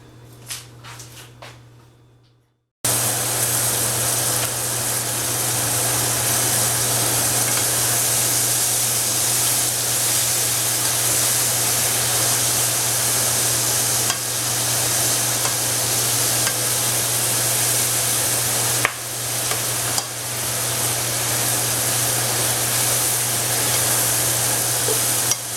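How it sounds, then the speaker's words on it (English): Chicken livers frying in a pan with gravy, a loud steady sizzle and hiss with steam that starts abruptly after a brief quieter moment and continues unbroken, with occasional small pops. "See how pretty those are frying up."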